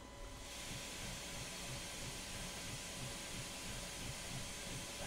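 A steam locomotive in a train simulator game, running on the Quincy line, gives off a steady, faint hiss of steam, a continuous breathy noise with no speech.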